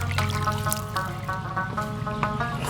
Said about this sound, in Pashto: اوبه در باندې وسکه